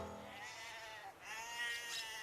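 Sheep bleat faintly in a steady outdoor din on a farm setting, a few drawn-out cries rising over the background with no clear speech.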